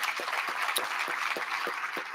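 Applause from an audience at a soccer hall of fame induction ceremony, a soft, steady patter of many hands at a moderate distance, continuing evenly without voices.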